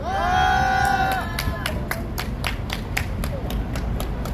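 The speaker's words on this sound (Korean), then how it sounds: "안준하 의원님께 다시 한번 큰 박수 부탁드리겠습니다" A crowd claps and cheers at an outdoor candlelight rally in front of a party office in Daegu, with rhythmic applause building into a steady, fairly loud patter of hands.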